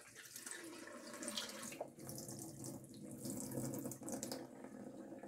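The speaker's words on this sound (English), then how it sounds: "I'm running the hot into the tank, and I'm just going to fill it up, slosh it around" Hot running water fills and sloshes into the water tank of a Bosch dryer, a steady close rushing stream that continues throughout with slight splashing changes.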